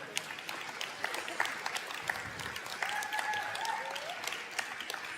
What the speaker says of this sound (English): I think our leadership deserve a nice round of applause.